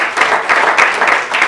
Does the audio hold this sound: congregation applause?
yes